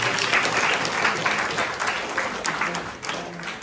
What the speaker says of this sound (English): So big round of applause to Shamitra.